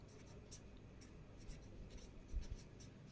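A pen or pencil writes on paper while a math problem is worked out. The scratching strokes are soft, close and intermittent, short and irregular, and sit under a quiet room hum.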